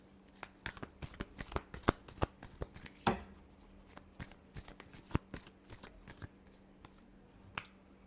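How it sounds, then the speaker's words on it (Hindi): Tarot cards being shuffled by hand, a close run of crisp riffling flicks and soft slaps repeating steadily for several seconds, one louder burst partway through, no voice heard. "Last shuffle."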